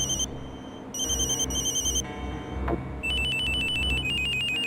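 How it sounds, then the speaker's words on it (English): Default phone ringtone from the video game Silent Hill: Shattered Memories, a loud electronic ring in repeated high bursts, first two short sets, then a steadier chiming pattern, with game background sound underneath. "So, this is the default phone noise."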